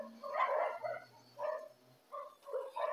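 Several dogs bark in sharp bursts as garbage collectors pass on the street, a handful of separate barking spells at moderate distance with short pauses between them.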